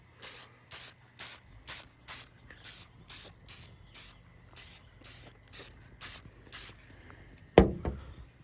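Short bursts of aerosol spray paint applied in light coats, about a dozen evenly spaced hissing puffs in a steady rhythm, close and clear, ending with a sharp rattle of the can.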